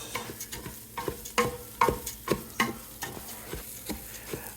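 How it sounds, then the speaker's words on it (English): Wooden-spoon stirring of rice frying in melted butter in a hot pan for Puerto Rican arroz con gandules, with repeated scraping strokes over a steady soft sizzle, close and moderately loud. "Keep on stirring that rice."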